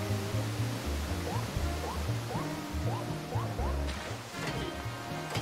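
Rushing waterfall in the Super Mario 3D World video game, a steady broadband wash of falling water running throughout, layered under a repeating musical pattern with rising chirps.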